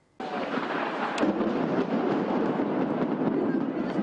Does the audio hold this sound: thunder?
yes